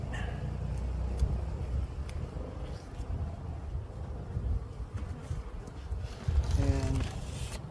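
Honeybees hum around an opened spring hive, a low steady buzz under faint rustling and handling noises, ending with a brief high whine.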